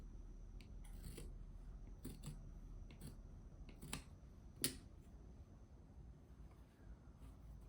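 Scissors cut fabric along a straight line for doll pajama pants, giving faint, sparse snips spread across a quiet room, with one crisp, louder snip near the middle.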